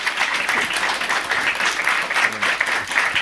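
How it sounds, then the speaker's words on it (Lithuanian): Audience applauding at a live show, dense sustained clapping from a crowd filling the whole stretch, fairly close and loud. "Wow, ei, paplojam."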